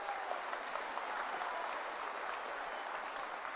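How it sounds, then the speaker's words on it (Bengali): Crowd applause greets a speaker at a BJP election rally in Baharampur, West Bengal, a dense, continuous wash of clapping from a large audience, steady and loud throughout with no voices standing out. "এবার সবাই মিলে হাততালি দিয়ে তাকে স্বাগত জানাবো"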